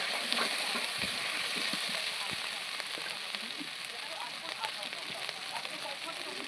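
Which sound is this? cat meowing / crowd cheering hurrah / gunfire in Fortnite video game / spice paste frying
spice paste frying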